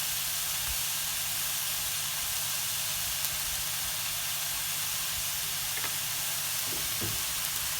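Beetroot thoran frying in a pan, a steady, close sizzle and hiss holding throughout, with a few faint scrapes and knocks from stirring.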